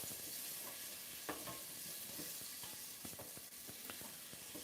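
Onions sautéing in olive oil in a pan for a fresh tomato soup, a steady close sizzle with scattered crackles and a few stirring scrapes, with no talking.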